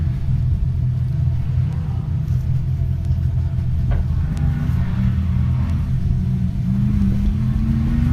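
An off-road race vehicle at the High Desert 100 qualifying rumbles through a set of corners, a steady, loud low drone with engine pitch slowly rising toward the end, a few faint clicks above it.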